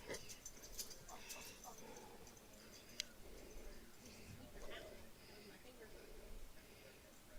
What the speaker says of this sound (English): She's actually wrestling with the dog back there.